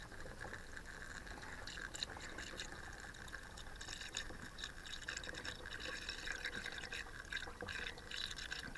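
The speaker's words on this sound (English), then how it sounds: "use a jug and a funnel, and I tip it into there" Diesel gurgles and trickles from a jug through a funnel into a motorhome heater tank, a faint, continuous pouring flow with small splashes and drips close by.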